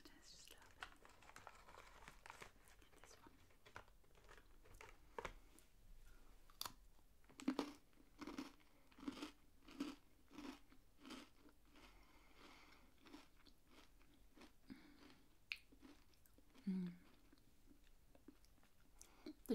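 Crisp crunches and chewing of a chocolate biscuit, close and quiet, with scattered bites and soft crinkling between faint whispered talk.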